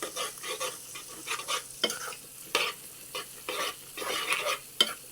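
A spoon stirs eggplant curry frying in a pan, with scraping strokes at an irregular rhythm over a soft sizzle, near and moderately loud, no voices.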